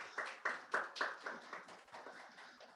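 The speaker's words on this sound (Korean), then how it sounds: "에브라임 찬양대 에바다 찬양팀 함께 박수를 격려하겠습니다" A small congregation at a church youth worship service claps in appreciation of the choir and praise team, making a quick string of separate hand claps that gradually soften and blur together.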